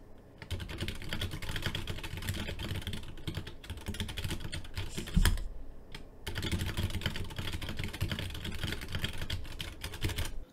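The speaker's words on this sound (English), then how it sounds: "Typing also feels good." Steady, fast typing on a modded Wooting keyboard, with dense close clacks running continuously and a brief pause midway, no talking.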